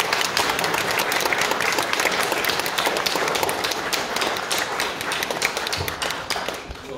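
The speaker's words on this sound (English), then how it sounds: "Can we give them all a round of applause?" A church congregation at a Sunday Common Worship service gives a round of applause, a loud, dense and continuous clapping from many people that holds steady throughout.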